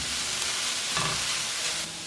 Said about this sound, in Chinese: 把这个酸菜呢放进来干锅炒，炒去水分了之后再来放油